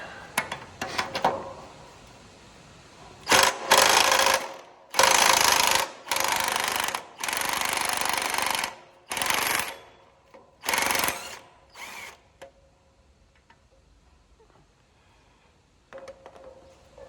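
A battery impact wrench, with its battery running low, removes a lock nut on a crumbler frame in a series of loud, close bursts of hammering. Short pauses fall between the bursts, and the final ones come out weaker.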